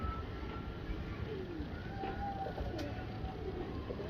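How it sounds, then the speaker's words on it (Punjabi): Soft, low cooing of a male pigeon repeats faintly over a steady background hum; no voices. "ਇਹ ਸੀਗਾ ਸਰ ਕਬੂਤਰ ਨਰ"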